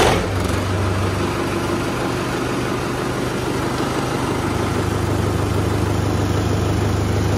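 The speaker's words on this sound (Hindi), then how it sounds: "और भैया टर्बो चलाएंगे हम टिलर उसी खेत में जिसमें हैरो निकाल ली थी कल।" A Mahindra 595 Turbo tractor, hitched to a nine-tine tiller in a farm field, runs its engine at a steady idle with a loud, even low rumble and no breaks.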